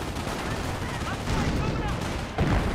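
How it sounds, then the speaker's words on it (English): Mortar shell impact in Company of Heroes, heard as a dense, muffled battle din of blasts and scattered gunfire, with a sharper thud near the end and a voice talking over it. "Good mortar hit there"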